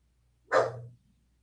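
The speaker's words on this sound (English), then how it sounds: "He's barking at the printer." A dog gives a single short, sharp bark indoors, close and moderately loud, aimed at a printer, with quiet surroundings before and after.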